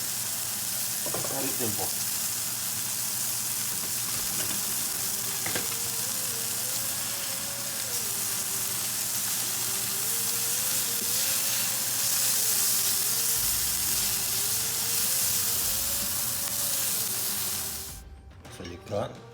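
Mushroom, pepper and onion sizzle steadily in a hot pan for an elk sandwich, a loud continuous frying hiss with a few stirring clatters, briefly under a voice before stopping near the end.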